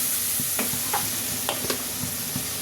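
Chilli, coriander and cumin powder with salt fry in a pan with eggplant, tomato and egg, giving a steady close sizzle broken by a few scraping stirs.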